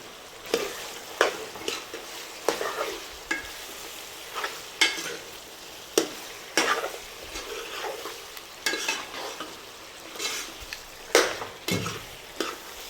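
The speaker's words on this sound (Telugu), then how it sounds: "మనకి టమాటాలు చికెన్ కడిగిన వాటర్తో ఆయిల్తోనే మగ్గిద్ది." Tomatoes and country chicken simmer in oil in a pot, with a soft steady sizzle under repeated scraping strokes of a spoon. The stirring clinks and scrapes come at irregular intervals, close by and fairly quiet.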